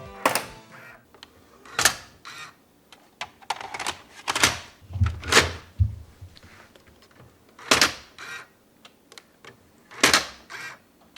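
Mechanical clunks and snaps ring out as the pop-up cassette drawer of an 80s CC320 camcorder opens, with several distinct thumps and clicks spaced across the clip, fairly loud and close, with no voices.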